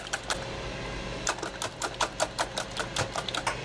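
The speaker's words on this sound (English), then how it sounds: "you're just gonna take a whisk and you're just gonna whisk up these eggs" Eggs being whisked by hand in a bowl, heard as a fast, regular series of close, bright tapping strokes that pick up after a brief pause.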